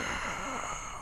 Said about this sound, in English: Daniel, stop breathing so weirdly.